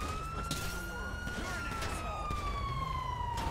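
A police car siren in the game GTA V Online wails in a steady, sweeping tone, fairly faint and distant, with engine and street noise underneath.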